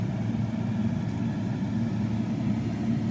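A Chevy Tahoe with 77k original miles runs steadily as gas is given, a close, continuous low engine drone with little variation and no talking.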